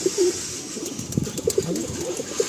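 Pigeons coo in repeated soft, throaty phrases at close range, the birds offered for sale as a Pulsar sirni generation pigeon line, with brief rustling between coos and no talk.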